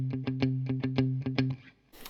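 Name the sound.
electric guitar, Stratocaster with distortion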